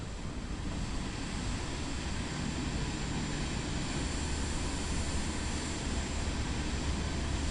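A steady, loud engine roar fills the scene as an aircraft takes off in Microsoft Flight Simulator 2024 on PS5, holding an even broadband rush throughout.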